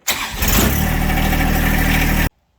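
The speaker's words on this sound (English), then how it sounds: "All right, tractor will start." A diesel tractor engine with warmed glow plugs cranks briefly, catches and settles into a loud, steady chugging idle for about two seconds before cutting off abruptly.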